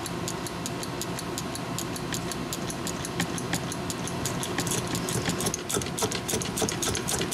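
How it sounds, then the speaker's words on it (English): A hand pump forces fluid into a Honda Civic manual transmission, giving a steady, fast run of close mechanical clicks and ticks over a low whir for several seconds, with no talking. "We'll just pump it in until it starts coming out."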